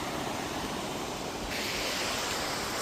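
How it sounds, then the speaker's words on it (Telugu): Waterfall near a hidden temple at Erumeli, a steady broadband rush of falling water that holds at an even, fairly loud level throughout, growing slightly brighter partway through. "చూసారు స్వామి జలపాతం"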